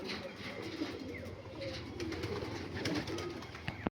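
Panjabi Malwai pigeons, slim and lightweight, coo in a steady, overlapping murmur close by, with soft low throaty calls running throughout and a brief clatter just before the end.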